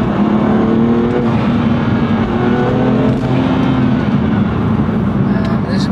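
Steady engine drone from inside the cabin of a BMW M2 Competition fitted with an Eventuri air intake, with a soft rushing intake whoosh as the revs rise and fall, continuous throughout.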